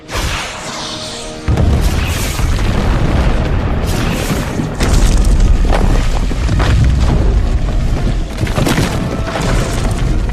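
A missile salvo explodes in the Hulk (2003) helicopter fight, with loud sustained booming blasts and rumbling debris that surge in after a quieter opening and keep crashing for several seconds.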